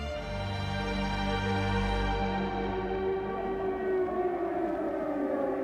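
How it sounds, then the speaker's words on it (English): Air raid sirens wail over wartime Berlin, a loud sustained rising-and-falling civil defence tone that drones on for several seconds with no speech. "As he starts his speech, the sirens wail over Berlin."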